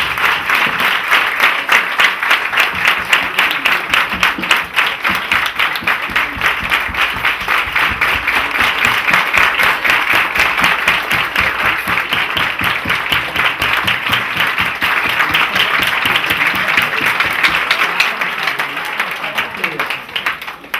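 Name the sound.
audience standing and applauding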